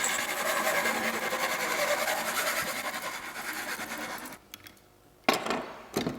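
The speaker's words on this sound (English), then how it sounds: "So yeah, I'm gonna hacksaw that while the glue gun heats up." A hacksaw cuts through part of a camera lens in rapid, raspy back-and-forth strokes that run steadily, then slow and stop, followed by a couple of sharp clicks or knocks close by.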